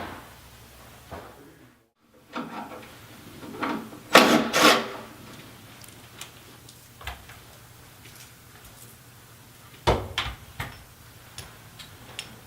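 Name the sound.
unbolting bolts from snowmobile drive plate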